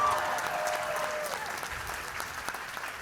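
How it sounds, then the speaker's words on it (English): Audience at a DragCon drag panel in New York claps steadily, a dense wash of applause that fades gradually over a few seconds with no one speaking. "Please clap for yourselves."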